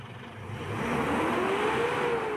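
Mitsubishi Montero Sport 4D56 diesel engine with low power and a check-engine fault revving up to 4000 rpm, a steady loud drone rising in pitch then holding high, close by with no talking.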